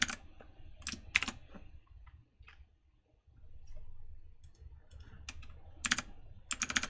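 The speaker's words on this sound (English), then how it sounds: "I am bad at typing today." Someone types code on a computer keyboard, with quick clattering bursts of keystrokes, a near-silent pause in the middle, then more rapid clicking, all close and distinct.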